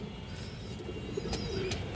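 A pair of black-laced pigeons softly coo in the background over a steady, faint hiss, with a couple of brief chirps.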